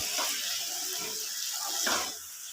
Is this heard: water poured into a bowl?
yes